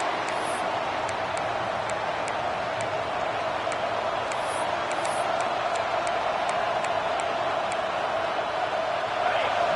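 A stadium crowd roars steadily at a college football game in a video game, a dense constant wash of cheering with sharp whistles and yelps popping out above it throughout.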